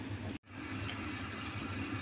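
Water runs steadily out of the tube of a Coway water filter, a continuous hiss and splash close by with one brief break near the start.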